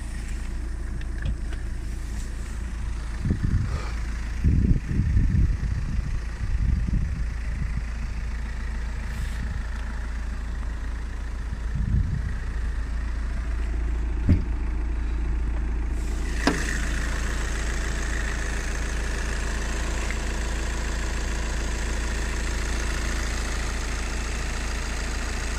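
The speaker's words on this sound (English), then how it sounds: "You can hear the engine. Sound nice." Diesel engine of a 2011 Volkswagen Passat CC GT idling, a steady low rumble that holds evenly throughout, with a few brief knocks and handling noises early on.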